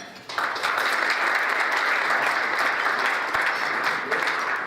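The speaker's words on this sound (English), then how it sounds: "Do I have to speak Korean so you hold your applause, please?" Applause breaks out at a banquet honoring an immigrant hero award recipient, starting abruptly after a quiet moment and holding as a dense, even wash of many hands clapping for several seconds.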